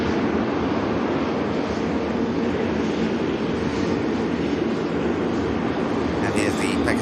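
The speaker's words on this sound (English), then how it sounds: "here's the Pegasus for Istanbul" A Pegasus Airlines jet departs Manchester Airport for Istanbul with a loud, sustained engine roar heard from nearby, while people talk over it.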